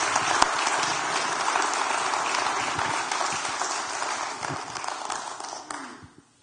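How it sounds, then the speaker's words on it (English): Audience applause fills a hall at an annual reconciliation event honoring a guest speaker, a dense sustained wash of clapping that holds steady for about six seconds before tapering off abruptly at the end. "One more round of applause for Dr. Chang."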